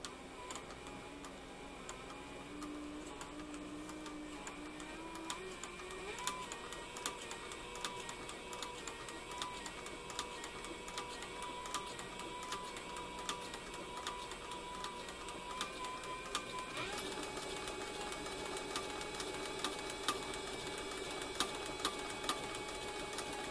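A sewing machine stitches a leather knife sheath with a continuous rapid mechanical ticking and whirring, fairly quiet and steady, with no talking.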